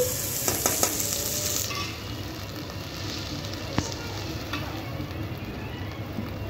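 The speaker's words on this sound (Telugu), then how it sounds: "ఇది కొంచెం ఫ్రై అయిన తర్వాత మనం ఉడికించుకున్న మటన్ అయితే వేసుకోవాలండి." Onion masala for mutton curry fries and sizzles in a pan, giving a continuous close crackle with a few sharp clicks and scrapes of stirring near the start and again partway through.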